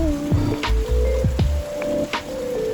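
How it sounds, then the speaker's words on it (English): Heavy rain pours down on a street in Mexico, a steady close wash of drops and splatter mixed with sharp knocks and some squishy sounds. "it also started absolutely pouring"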